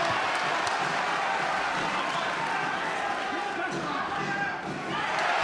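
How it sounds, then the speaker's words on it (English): A boxing crowd in Castlebar roars steadily through Bernard Dunne's bout against Felix Machado, a dense, loud wash of cheering and clapping that never lets up, with a commentator talking over it. "Crowd willing him on here in Castlebar."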